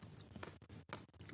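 Crunchy roasted pumpkin seeds being chewed up close, a quick run of faint, crisp bites and crunches over about a second, no talking.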